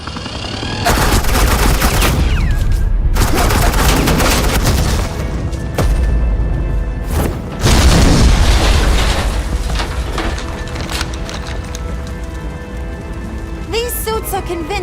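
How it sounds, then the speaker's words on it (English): Sustained bursts of suppressing gunfire in the Batman game The Enemy Within, dense and loud for most of the span with brief gaps, mixed with booming impacts and rattling debris. "suppressing fire"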